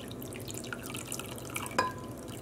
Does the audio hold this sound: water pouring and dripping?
yes